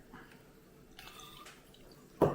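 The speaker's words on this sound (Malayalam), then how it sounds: "നമ്മൾ ഉണ്ടാക്കി വെച്ച ഇഞ്ചി നാരങ്ങയുള്ള ജ്യൂസ് നമുക്കൊന്ന് അരിച്ചെടുക്കാം." Homemade ginger and lemon juice is strained, giving a faint, brief trickle and drips, then a short louder splash at the end; no one speaks.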